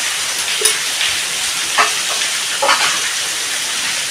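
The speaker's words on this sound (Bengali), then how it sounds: "দিয়ে আমি মশলাটা কষিয়ে নেব।" Turmeric, cumin and coriander powder frying in a pan give a steady, close broadband sizzle, with a few brief scraping stirs breaking through and no voices.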